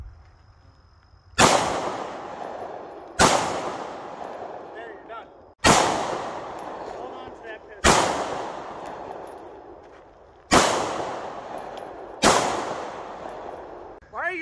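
Six loud, sharp gunshots at an outdoor shooting range, spaced a second or two apart, each a hard crack followed by a long fading echo.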